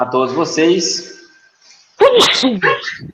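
A single sneeze bursts out during an evening talk in Portuguese, sharp and brief between stretches of a man's speech.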